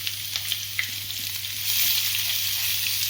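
Chopped garlic fries in hot oil for dal tadka, giving a steady bright sizzle with small crackles and stirring scrapes, growing slightly louder toward the end.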